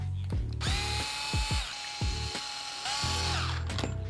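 A small electric screwdriver backs out tiny 1.5 mm screws from a Vitavon 7075 billet aluminum LMT axle, with repeated short whirring bursts and ratcheting clicks, close and fairly loud, heard alone without talk.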